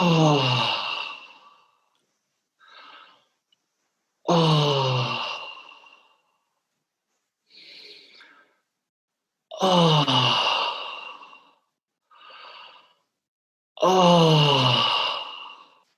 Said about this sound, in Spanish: Aquí necesito que sea por la boca y exhalo por la boca. Y cuando exhale, necesito gemir